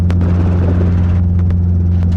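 A Robinson R22 helicopter climbs in flight with a loud, steady, droning thrum of its rotor and engine. The sound is close and continuous throughout.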